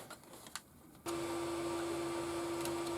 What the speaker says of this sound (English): I'm just waiting for it to print. You can hear the printer running.